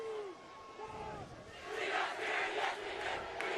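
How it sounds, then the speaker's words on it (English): Crowd at a high school soccer season opener between Saint Thomas Aquinas and St. James Academy roars and chants, swelling from a low murmur into loud sustained cheering, with faint whistle-like tones early on. "And just listen to that crowd."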